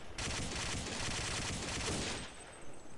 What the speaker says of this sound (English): there's someone getting shot to my right